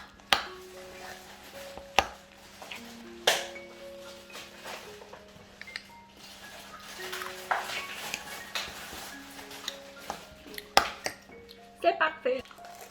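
A spoon stirs yogurt in a bowl, giving scattered clinks and soft taps at an uneven pace over faint background music.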